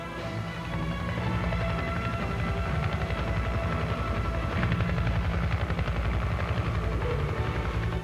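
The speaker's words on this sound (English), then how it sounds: "As the attack helicopters approach their attack positions" Attack helicopters flying in steady, loud rotor thrum with dense low chopping pulses and broad engine roar, continuous throughout without speech.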